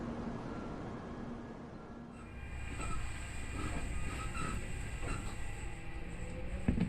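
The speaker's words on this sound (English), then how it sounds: "The train bound for Kashihara Jingume has departed from Yoshinoguchi Station." A Kintetsu 6400 series train pulls out of Yoshinoguchi Station, a steady rumble and hiss that builds with rhythmic clatter and squealing tones as it picks up speed. No one talks over it.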